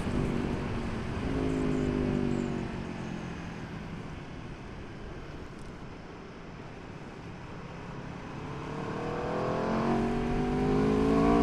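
A 2019 Aprilia RSV4 Factory motorcycle engine revving while ridden, the exhaust note rising and falling as the revs climb, dip and build again, close and loud with wind noise.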